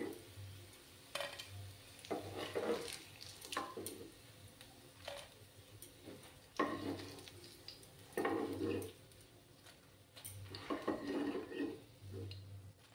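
Paneer pakoras sizzling in hot oil, with a steady, fairly faint fry hiss punctuated by periodic stirring and utensil clinks against the pan as batches are turned and lifted out.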